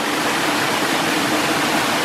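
Steady, dense rush of a waterfall in Serra da Ponte Nova, Palmeiras de Goiás, a broad unbroken roar of falling water that fills the whole span with no voices.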